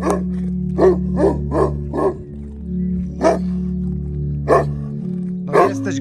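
A dog barks repeatedly in short, loud bursts close by on a Polish village street, the barks spaced unevenly over a steady low hum, with no talk during the barking.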